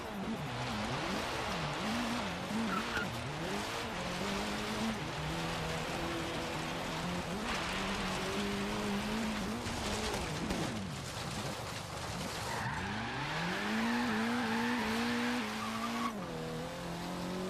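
Ford Focus RS driving and drifting in Forza Horizon 3: a revving engine climbs and drops through gear changes, with a steady rushing road and tire noise and rising, wavering engine pitch during the slides.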